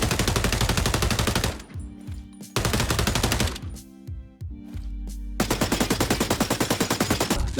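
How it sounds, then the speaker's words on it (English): Rapid automatic weapon fire in the XDefiant shooter, loud close bursts of evenly spaced shots separated by short pauses with shell-like clinks, ending in a long sustained burst. "the weapons, they don't sound so great. They are too weak sounding, almost like paintball markers, and need a lot more punchiness to them"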